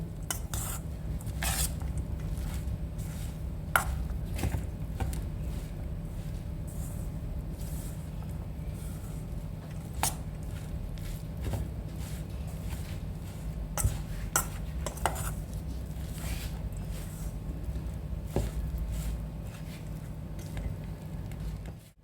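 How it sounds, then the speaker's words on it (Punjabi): A spoon stirs corn pakoda batter seasoned with red chilli, green chilli and turmeric in a bowl, giving steady soft scraping with scattered clinks of metal against the dish over a constant low background hum, no talking. "ਹੁਣ ਆਪਾਂ ਇਹਨੂੰ ਚੰਗੀ ਤਰ੍ਹਾਂ ਚਮਚੇ ਨਾਲ ਲਾ ਲੈਣਾ ਜੀ"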